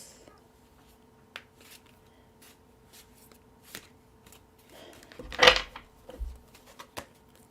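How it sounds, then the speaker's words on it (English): Deck of tarot cards being shuffled by hand, soft scattered taps and riffles with one louder burst of shuffling near the end, quiet and close. "Shuffle, shuffle, shuffle."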